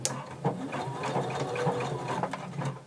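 A domestic sewing machine back-stitches through fashion fabric and lining, running as a steady close mechanical whir with short rhythmic clatters and slight speed shifts throughout.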